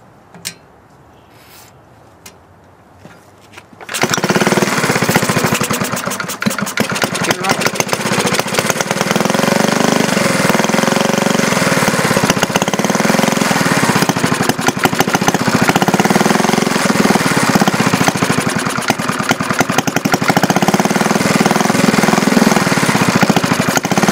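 A homemade hit-and-miss engine built from a Briggs & Stratton, turning over without fuel reaching it, breaks into a loud, rapid, steady chugging after a few quiet seconds and keeps pounding for about twenty seconds.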